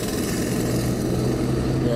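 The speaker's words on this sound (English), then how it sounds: "they're doing lots of drilling and jackhammering here." Continuous loud mechanical rumble and rattling of jackhammers and drilling at a roadside construction site, heard while driving past, steady throughout with no pauses.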